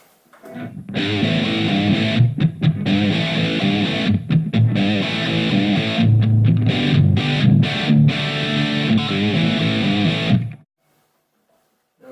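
Distorted electric guitar through a Fender Mustang GT40 amp on its 70s British amp model plays chords and riffs with a thick, crunchy tone, loud and continuous, with brief gaps between strums before ringing out and stopping.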